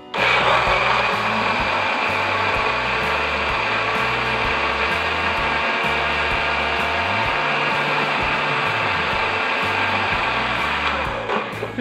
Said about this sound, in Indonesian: Dan sekarang aku mau blender sampai halus.